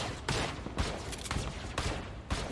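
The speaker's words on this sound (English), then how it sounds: "He's shooting at me." Rapid bursts of gunfire ring out in a battle royale video game fight, several sharp, loud shots spread unevenly over a steady background din.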